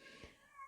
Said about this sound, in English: sorry if you hear my cat meowing in the background